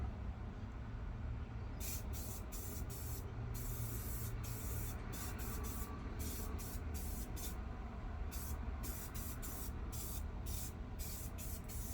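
A spray can hisses in repeated bursts of a few seconds each as a final coat goes onto a stock ATV wheel rim, close and steady over a constant background hum.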